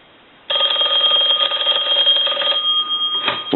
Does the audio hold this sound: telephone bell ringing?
yes